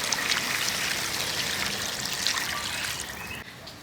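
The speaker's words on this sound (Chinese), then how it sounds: "我们要加水了" Water pours steadily into a cooking pot for a sour soup of pork trotters, a continuous close splashing trickle that runs without a break before easing off at the very end.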